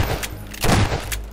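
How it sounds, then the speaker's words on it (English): Grenade blasts and gunfire in the video game Garry's Mod, a fast volley of loud, close booming cracks, one burst heavier than the rest, with no talking. "That's a grenade."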